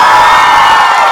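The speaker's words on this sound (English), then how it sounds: "let's give a big round of applause" Audience at a school assembly breaking into loud applause and cheering, a brief dense burst of clapping and shouts close by.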